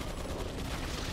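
Battleship cannon fire in Resident Evil 4 produces a dense, continuous roar of heavy blasts that fills the whole moment, loud and unbroken with no separate shots.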